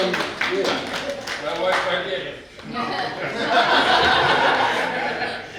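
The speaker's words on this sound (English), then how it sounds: "Thanks for starting the clap." An audience at a live comedy show claps and chuckles, scattered clapping and laughter mixed with a talking voice, swelling into fuller applause toward the end.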